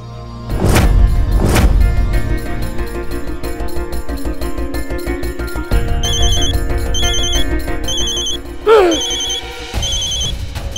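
A phone rings with a repeating electronic ringtone over loud background music and clattering sounds, the tones chiming in short repeated bursts.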